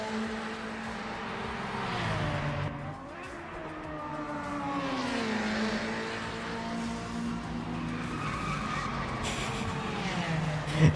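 A Mazda 787B race car engine in the Project Motor Racing video game drones and shifts pitch as it revs through gears, a steady sustained whine with a tire squeal near the end.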